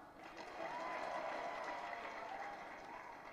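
Crowd applause at a university graduation ceremony, a broad wash of clapping that swells after the first half second and holds steady, slightly distant.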